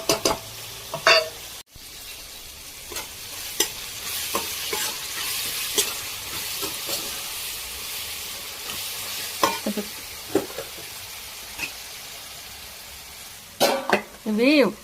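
Curry leaves, turmeric and tomatoes fry in a pan while a spoon stirs and scrapes in a steady sizzle, with occasional sharp clinks of utensil on metal throughout.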